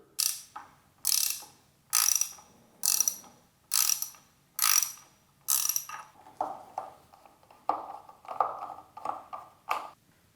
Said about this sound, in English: right there on the bottom, you're going to need an 8mm socket. We're going to go ahead and remove that screw.